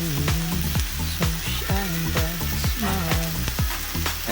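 Kanchan greens sizzle and fry in a pan, a steady loud crackle overlaid with rhythmic scraping and clinking of a stirring utensil against the pan, close by.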